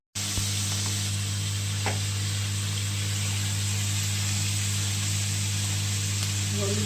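Dried chillies, lentil dumplings and new potatoes frying in hot oil for a vegetarian kohlrabi curry, a steady close sizzle with a low hum underneath and almost no other sound.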